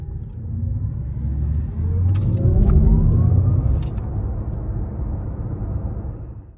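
An electric car drives along a road with a smooth low rolling rumble of tyres and wind that swells slightly in the middle and then fades, with no voices.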